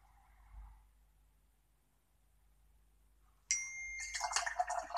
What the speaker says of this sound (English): Oh, sorry, that's my phone going off.